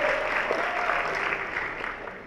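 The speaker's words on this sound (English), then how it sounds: "Big round of applause, guys." At the Yuva Fashion Show, a crowd applauds a contestant as she is announced, giving a smooth, continuous wash of clapping at moderate volume that tapers slightly toward the end, with faint voices in the mix.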